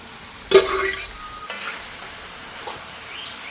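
Fried vegetables tipped into a pan of boiling vinegar for mixed pickle land with a sudden loud sizzle that settles into a steady, quieter frying hiss, close by and with no talking.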